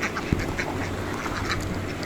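Laying ducks on a duck farm quack in short, repeated bursts over a steady low hum, the calls coming from several birds at a moderate distance.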